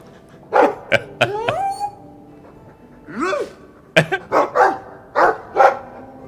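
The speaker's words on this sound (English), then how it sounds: "Who's a good boy? I like the doggy." A dog in the game Dragon Age II barks repeatedly in short, loud bursts, with a few yips and a whimpering whine between them, standing alone without talk.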